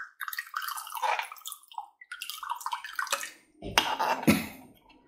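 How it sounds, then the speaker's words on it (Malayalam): Tamarind water poured into a cooking pan for Onam sadhya inji curry, a close splashing, trickling pour with a few drips near the end, and no voices. "ഇനി ഇതിലേക്ക് കലക്കി വെച്ചിരിക്കുന്ന പുളിവെള്ളം ചേർക്കുകയാണ്."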